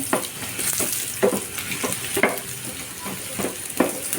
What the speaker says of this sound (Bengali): তো আমার আলুগুলা লাল লাল হয়ে গেছে,